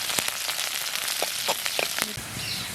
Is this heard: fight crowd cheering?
no